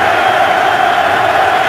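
Dense football stadium crowd roaring steadily as fans rise on a third-and-seven, Dolphins at Ravens in a 2010 NFL game; a loud, continuous wash of cheering with no clear individual voices.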